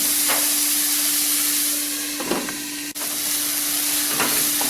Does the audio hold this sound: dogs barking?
no